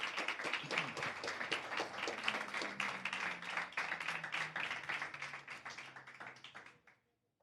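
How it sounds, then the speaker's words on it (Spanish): A church congregation applauds in sustained, dense clapping that holds steady for several seconds, then fades and stops abruptly. "Dale ese aplauso a Jesús."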